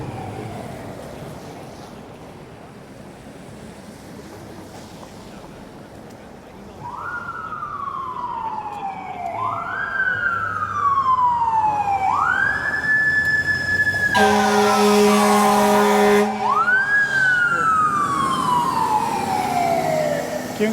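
A fire engine or ambulance siren wails in repeated rising sweeps at a downtown Toronto intersection, growing louder as it nears, with a long air-horn blast partway through over steady traffic noise.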